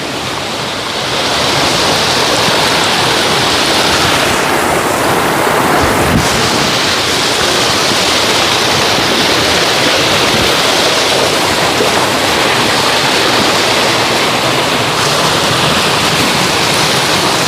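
Strong river current rushing past, a loud, steady, broadband roar of flowing water that continues unbroken throughout, with no voices.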